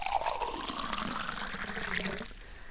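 Water pours steadily into a large glass, close and continuous, with the pitch of the stream rising as the glass fills before it cuts off near the end.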